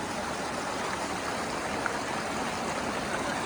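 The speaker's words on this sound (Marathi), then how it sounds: "हे जे पाणी वाहतं याचा फ्लो किती जास्त आहे" Fast-flowing floodwater of the Godavari river at Nanded rushes in a dense, continuous roar, steady and unbroken at close range with no voices over it.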